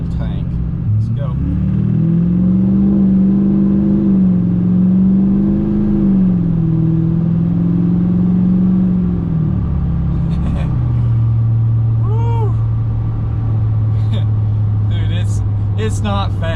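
A Duramax diesel pickup with a full fuel tank accelerates up a slight incline, its engine droning loudly and rising in pitch through the gears before easing back to a steady cruise hum, heard from inside the cab.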